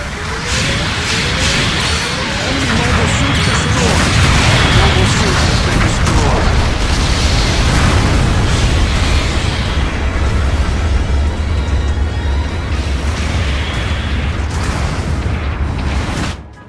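Heavy booming blasts and whooshes as a mobile suit explodes in Gundam Battle Operation 2, loud and dense with layered rumbling detonations that stay sustained for most of the stretch before cutting off.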